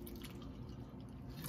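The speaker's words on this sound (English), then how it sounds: "Put a little orange juice." A small splash of orange juice poured into a seafood salad already seasoned with garlic, a soft steady liquid trickle with light dripping, close and fairly quiet, with no talking.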